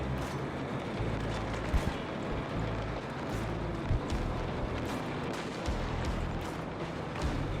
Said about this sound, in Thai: มีคนยิงมาเว้ย